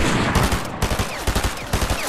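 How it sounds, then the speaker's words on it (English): Rapid gunfire in a Fortnite match, dense bursts of shots cracking repeatedly from several directions over two seconds, loud and busy with overlapping volleys. "I'm getting shot from everywhere."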